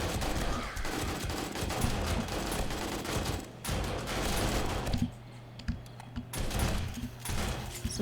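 Automatic turrets fire in 7 Days to Die, a dense, loud, sustained stream of rapid gunfire that briefly drops out around the middle, then resumes in rougher bursts.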